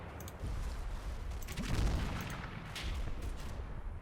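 Small arms and mortar fire sound in a Combat Mission game battle in the Normandy hedgerows, a dense, continuous rumble of shots and muffled booms at moderate distance.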